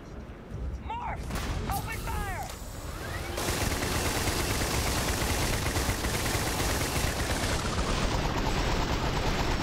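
Gunfire in the video game Starfield, a dense, sustained barrage of rapid shots that swells and keeps going, loud and continuous, with brief vocal sounds early on.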